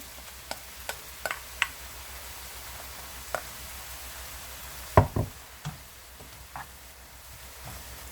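Vegetables stir-frying in a pan before tofu goes in: a low, steady sizzle broken by scattered utensil taps, then a louder knock and clatter near the middle as more is added. No one speaks.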